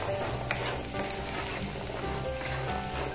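Black chickpeas sizzle steadily in a hot pan as they are stirred for chana chaat, a dense continuous frying hiss with scraping texture, close and even throughout with no voices.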